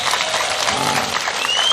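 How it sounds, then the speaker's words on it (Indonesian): Crowd at an Islamic religious gathering (pengajian) breaks into steady, fairly loud applause, a continuous dense patter of many hands throughout. "Tepuk tangan tuh NU dan Muhammadiyah"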